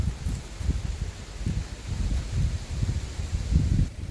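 Strong wind gusting outdoors in the countryside by a fishing spot, a low rumbling buffet that swells and fades in uneven bursts across the whole stretch, close and fairly loud against the microphone.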